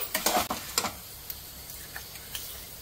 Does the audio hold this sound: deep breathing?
no